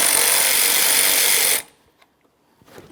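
A power tool, likely a ratchet or impact driver, removes a 13mm mounting bolt from the washer fluid reservoir of a 2007-2017 Jeep Patriot, loud and close for about a second and a half, then stops abruptly, leaving faint clicks and handling noises.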